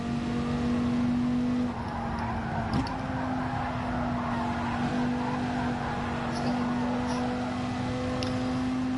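A Viper race car skids in a racing game after missing its braking point, a steady engine drone with squealing tires running throughout, loud and close.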